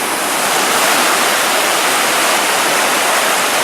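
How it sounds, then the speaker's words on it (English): Water released through a lock gate into the lower chamber makes a loud, steady roar of rushing water, like a waterfall, close by and unbroken. "now you can see that they started releasing the water back into the lower half."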